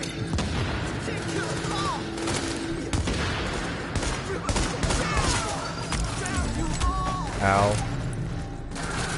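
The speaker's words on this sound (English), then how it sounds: "Grenades! Goddamn grenades, man. Too many of these grenadiers." Grenade blasts and bursts of automatic gunfire erupt in The Division, a steady barrage of explosions and rapid shots with a player's pained grunt and talk over the combat.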